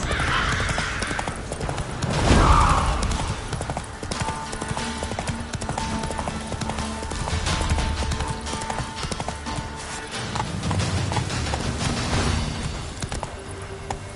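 A horse galloping in the video game The Witcher 3: Wild Hunt, its rapid rhythmic hoofbeats pounding steadily and close throughout, with a brief whinny-like snort early on over game ambience, and no voices.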